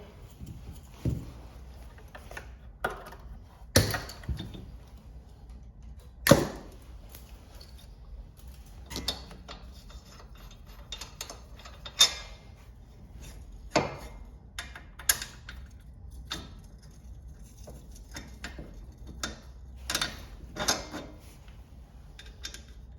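A ratchet with a 14 mm socket tightens the shock bolt on a Suzuki Vinson 500 4x4 ATV, producing scattered sharp clicks and clacks at an uneven pace against quiet workshop background, with no talking.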